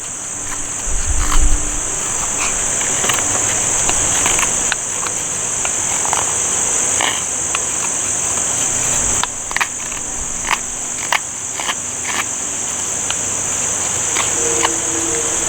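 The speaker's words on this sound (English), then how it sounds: "You hear the cicadas?" A steady high-pitched cicada drone runs continuously through the whole clip outdoors in humid weather, with scattered soft clicks and bumps from a multitool used for wood carving nearby.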